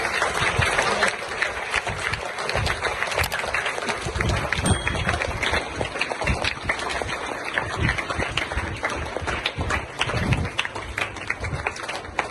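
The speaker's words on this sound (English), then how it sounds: "Please clapping करें" Students and guests at a school oath ceremony applauding a new prefect called to the stage for his badge; long, dense, continuous clapping from a sizable crowd, loud and unbroken throughout.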